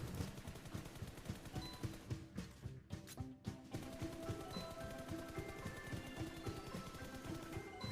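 Gunfire in the mobile battle-royale game PUBG Mobile rattles as a steady stream of rapid, evenly spaced shots, with a short gap midway before the firing resumes just as dense.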